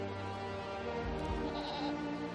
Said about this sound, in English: one of their goats strayed from the herd